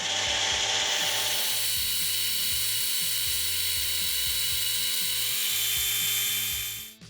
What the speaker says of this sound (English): With a little 1045 chucked up, I'll face this one off and whittle it down to dimension.